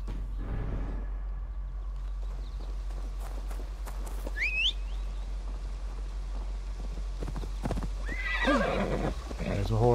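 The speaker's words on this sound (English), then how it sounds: "There's a horse." A horse in Assassin's Creed Valhalla gives a short whinny midway through, followed by a second, longer neigh near the end, over a steady low hum with scattered hoof clops and faint game ambience.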